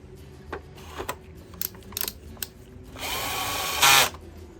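A power driver sends screws into the top of a Sebo vacuum cleaner: several short clicks and taps, then a sustained whirring drive that rises briefly in pitch before cutting off.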